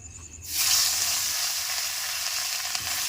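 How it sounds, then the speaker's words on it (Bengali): Marinated rohu fish pieces hit hot oil and burst into a loud, steady sizzle after a short quiet start, the bright crackling hiss holding close and continuous to the end. "এদিকে আমার তেলটাও গরম হয়ে গেছে, এবার মাছগুলা দিয়ে দেবো।"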